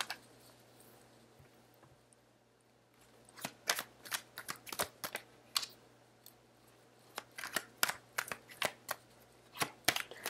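Tarot cards being shuffled and drawn at a reading, a quiet pause giving way to a run of crisp, snappy card riffles and flicks that come close and fairly loud, with no talking.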